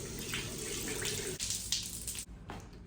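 Tap water runs steadily from a faucet to wet a makeup sponge, a close, continuous splashing stream with brief breaks as the sponge shifts beneath it.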